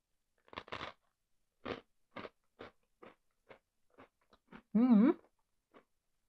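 Someone bites and chews crunchy croutons topped with soft, slightly sweet pâté: a string of short, sharp crunches spaced through the clip, close and fairly quiet, then a brief voiced sound near the end.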